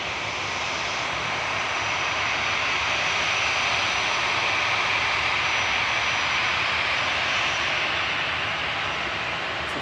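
An Aer Lingus aircraft at Manchester Airport sends out a loud, sustained engine roar with a hissing whine on top, steady across the whole stretch and free of speech.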